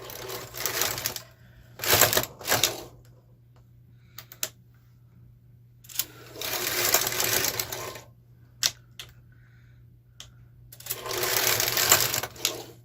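A KR 230 ribber knitting machine works a selvage, its carriage making several loud, rattling passes with clicks and taps between them, close up, with no speech.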